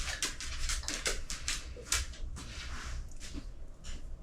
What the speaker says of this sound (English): listening to my dog drink her water.